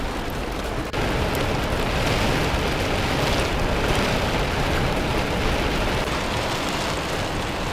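Steady rain on a day spent living in a van in Melbourne, Australia, a dense constant hiss that holds loud and unbroken throughout, with no voices.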